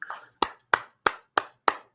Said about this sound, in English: I'm going to clap on behalf of the audience